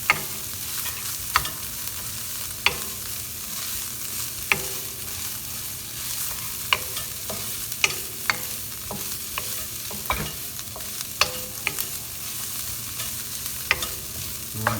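A dry spiced filling with cumin and chili powder stirred in a pan for stuffed sweet peppers, a low steady sizzle broken by regular sharp spoon scrapes and taps.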